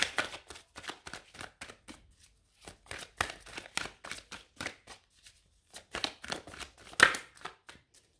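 Playing cards shuffled for a tarot-style card reading: a run of quick riffling bursts, dry papery flicks repeating in short rapid clusters with brief pauses between them, close and clear with no talking.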